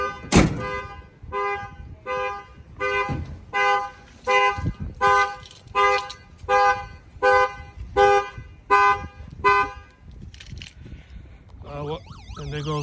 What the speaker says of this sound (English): The alarm will fire off.